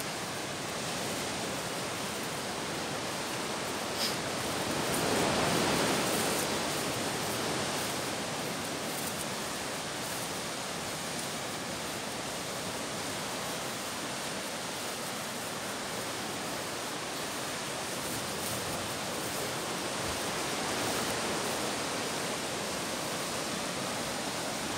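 Steady broadband roar of Indian Ocean surf washing into a beach channel on the Java coast, constant and fairly distant, with a slight swell now and then and no voices.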